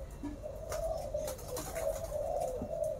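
Pairs of pigeons coo in a loft, soft repeated throaty calls that come close together over a low background hum.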